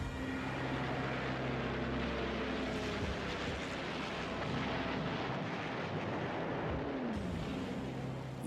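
Dense, roaring battle noise of the Pearl Harbor attack on Oahu: droning aircraft engines and dive bombers layered with heavy booming gunfire, loud and constant throughout with no pauses.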